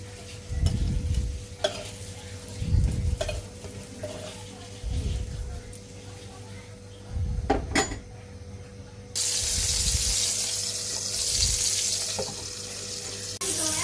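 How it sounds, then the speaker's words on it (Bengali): Oil hisses and sizzles steadily while eggplant slices are stirred or turned with repeated scraping knocks; a louder hissing surge comes near the end. "একইভাবে বাকি বেগুন বেগুনগুলো আমি ভেজে নিব"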